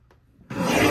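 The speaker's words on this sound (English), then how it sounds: "Allow those papers just to pile up next to the blade after you trim them." A paper trimmer blade slices through scrapbook paper, a short loud broadband rasp that starts suddenly after a faint quiet lead-in, close by and alone.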